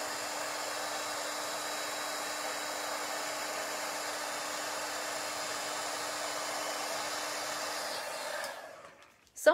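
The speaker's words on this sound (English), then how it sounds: "all I'm going to do is pull in my heat tool" A heat tool blows hot air in a steady, whooshing whine that runs on evenly, then cuts off abruptly with a click at the end.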